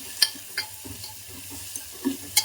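Onion and tomato frying in a pan for bottle gourd kadayal, a soft steady sizzle with several distinct spatula knocks and scrapes spaced through the stirring.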